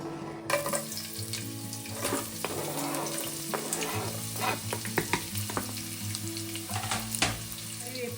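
Chopped onions frying in hot oil in a kadai, a steady close sizzle with intermittent stirring scrapes and clinks throughout, no voices.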